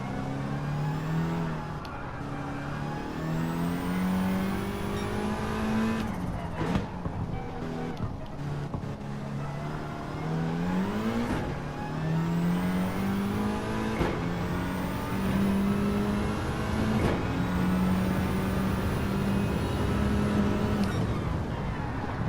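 Car driven in the Gran Turismo 7 racing game: engine tone repeatedly climbs and drops as it revs through gears and eases off, a continuous steady motor drone lasting throughout with no voices on top.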